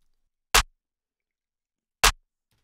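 Layered snare and clap samples in a beat hit together twice, evenly spaced about a second and a half apart, each a loud, punchy crack decaying quickly into silence.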